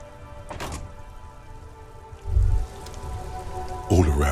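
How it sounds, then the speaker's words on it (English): Steady rain falling across the city of Revachol in the game Disco Elysium, a continuous patter on surfaces with a couple of low thuds standing out, close and moderately loud throughout. "All around you, rain falls on the great city of Revachol."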